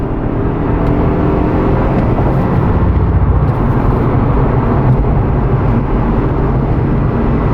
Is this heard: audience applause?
no